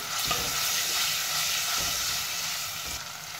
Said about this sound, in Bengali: দিলাইমু আমি রসুন, রসুনটা একটু লাল করে লাইমু